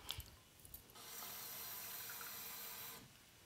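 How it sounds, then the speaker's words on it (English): Water pours steadily into a pot of chicken chickpea curry for a couple of seconds, a faint rushing splash after some light clinks. "I'm just going to add about a cup of water."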